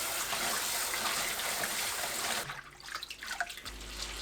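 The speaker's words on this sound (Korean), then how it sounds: "바로 찬물에 헹궈주세요." Running water from a tap rinses blanched seaweed in cold water, a steady broadband gush that cuts off partway, leaving faint trickles and splashes near the mic.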